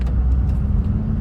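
A Honda Civic Type R FL5 with a Phearable Stage 2 93 tune and Hondata FlashPro drives at steady low speed, giving a brief, constant low engine drone heard from inside the car.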